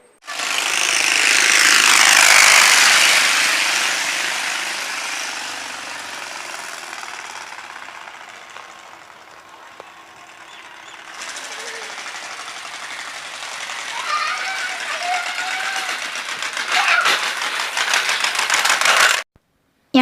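A bicycle fitted with a wheel-mounted device to imitate a Bullet motorcycle makes a loud, close, rapid rattling buzz that swells, fades midway, then builds again before stopping abruptly.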